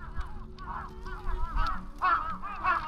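Outdoors in Japan, a large wading bird, a stork or heron, gives a series of harsh, honking calls in irregular bursts over faint background rumble, growing louder toward the end.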